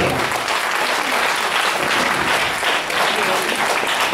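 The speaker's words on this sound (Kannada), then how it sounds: "ಒಂದು ದೊಡ್ಡ ಚಪ್ಪಾಳೆ" An audience at an evening concert of Kannada film songs applauds in a dense, even wash of clapping that stays loud and steady from start to finish.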